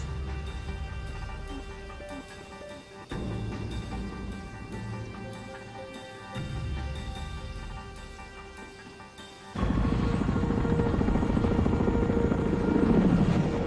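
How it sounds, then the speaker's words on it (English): Helicopters flying low just above the tree line up a creek during a dawn hostage rescue raid, a steady loud rotor and engine roar that swells in stages and grows louder and closer near the end. "The helicopters roar up Roquel Creek"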